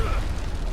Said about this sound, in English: I'll stay away from the explosion.